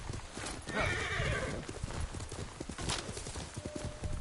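Hooves clip-clopping at a run while a horse gives a loud whinny near the start, from the horse Kage in the game Ghost of Tsushima, hoofbeats continuing steadily afterward.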